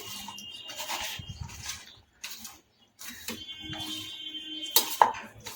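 Prawns hand-mixed with winter vegetables for a Bengali chingri chorchori, giving soft squelching, rubbing and clinking sounds in short bursts separated by brief pauses, close and fairly quiet, with no talking.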